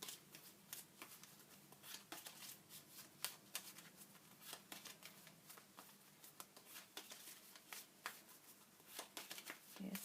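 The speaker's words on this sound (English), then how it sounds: "think about your question as I'm shuffling" Tarot or oracle cards being shuffled repeatedly, a steady run of crisp riffling snaps and flutters close by, with faint talk in the background.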